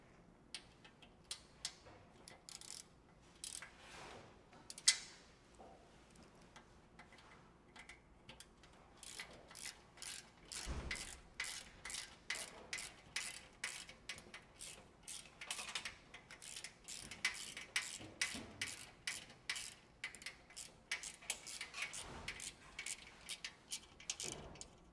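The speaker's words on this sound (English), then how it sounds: "After loosening all three bolts on the mounting plate on your panel" A hand ratchet loosens bolts on the mounting plate of an oil dispensing tap on a panel, making rapid, steady clicking in repeated runs of strokes, close and fairly quiet.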